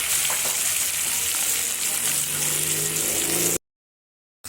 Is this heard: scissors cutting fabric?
no